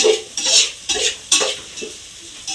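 Egg mixture stirred in a pan while making tomato rice, a series of scraping strokes of a utensil against the pan with faint sizzling, at close range and with no voices.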